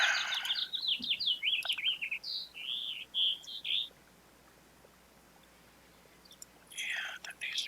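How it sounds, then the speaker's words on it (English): Small birds chirp just outside a window, a run of quick high tweets and trills for a few seconds, then quiet, then more chirping at the end. "Are those birds in your house? No, yeah, they're like just outside my window"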